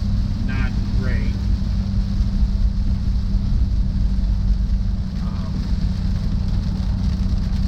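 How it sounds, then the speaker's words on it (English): Heavy rain on a car driving along the I-94 highway during a storm, a steady wash of rain and road noise with someone speaking briefly over it. "it's really started raining pretty good now"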